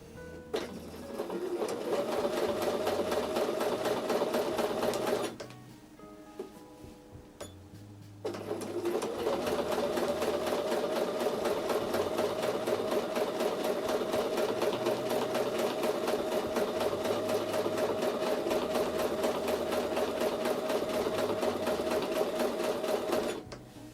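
A sewing machine stitches a Christmas quilted table runner in a steady, rapid mechanical whir, running for about five seconds, pausing briefly, then continuing nonstop close up.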